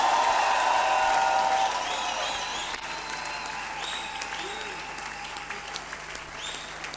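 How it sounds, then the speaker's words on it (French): A church congregation at a thanksgiving service claps loudly and steadily, a dense wash of applause that eases slightly partway through and keeps going, with faint high ringing tones over it. "Acclamons très fort."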